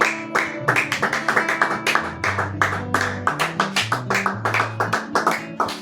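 A church congregation claps rhythmically in a steady beat, close and loud, with sustained music or singing tones running underneath throughout.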